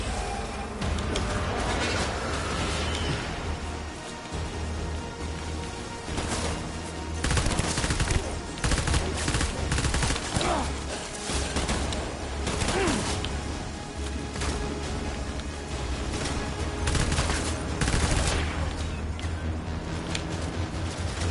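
Sustained gunfire with rubber bullets from the video game Death Stranding, loud and dense bursts of shots with thuds and crashes running throughout, no talking.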